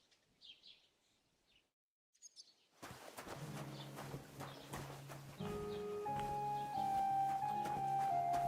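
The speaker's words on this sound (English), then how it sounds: "Still a damn horse." Horse hooves clip-clopping in a video game, a quiet rhythmic clopping with birdsong, soon joined by a steady musical score that swells and grows louder toward the end.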